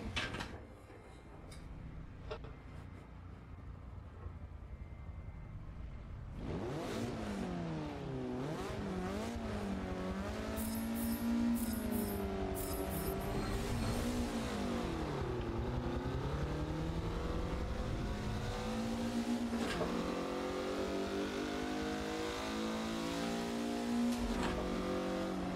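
A race car laps a circuit in Forza Motorsport 7, its engine revving loud and continuous through rising and falling gear sweeps after a quieter opening few seconds.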